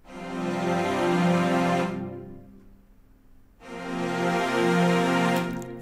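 Sustained stacked quartal chords in a Studio Ghibli style, full and rich, played in two long swells separated by a short near-silent gap, with no talking.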